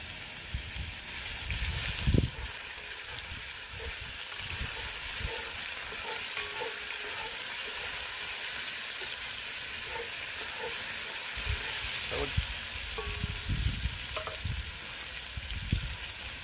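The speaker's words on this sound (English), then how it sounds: "I'll just give that meat a couple of minutes to brown off." Beef pieces browning in hot oil for an Aussie beef stew, a continuous dense sizzle close by with occasional louder pops and scrapes of a utensil, steady throughout.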